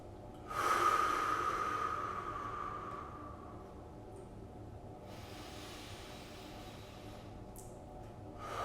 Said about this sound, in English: Now we're going to take about 10 big deep breaths here.